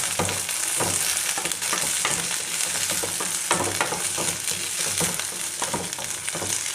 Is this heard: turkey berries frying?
yes